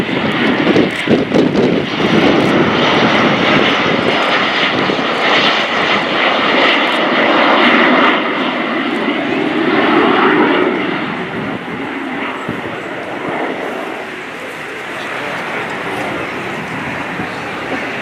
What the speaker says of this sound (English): Now you see Winter flying less than 230 miles per hour as they show the loving configuration of the Hawk T2 whilst in close formation.